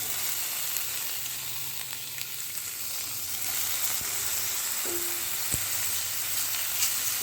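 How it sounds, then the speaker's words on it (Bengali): Cashews and raisins fry in ghee on a medium flame for a mango payesh, a steady close sizzle with a few soft scrapes of stirring and no voices. "তারপর এর মধ্যে কাজু কিশমিশগুলো দিয়ে মিডিয়াম ফ্লেমে আমি একটু নেড়ে নেব।"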